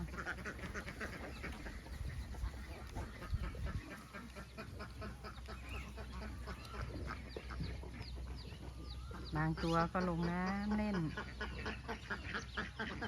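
Laying ducks on a duck farm housed in a converted old pig pen quack in a busy flock, with one loud, close run of quacks standing out late, while someone talks over the birds.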